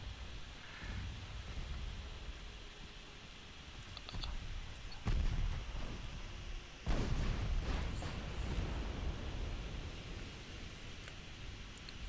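Naval guns fire in a warship battle in Ultimate Admiral Dreadnoughts: two muffled, distant booms with a rumbling tail over a low background hiss.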